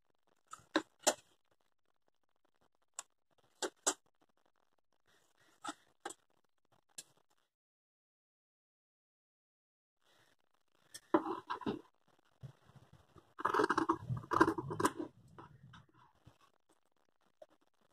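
Scissors cut through blouse fabric for a 3D mask, a few isolated snips early on, then a denser run of louder cutting and rustling near the end, close up and alone.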